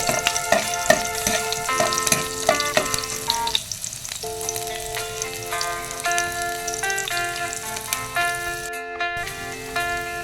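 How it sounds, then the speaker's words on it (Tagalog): Garlic fries in hot cooking oil as a bright, close sizzle with crisp popping spatters, strongest at the start. It continues unbroken apart from a brief dip near the middle, with occasional clinks over it and no voices. "Lagay na natin itong bawang. Hintayin natin mag-brown ng bawang guys para mabango ang ating niluluto."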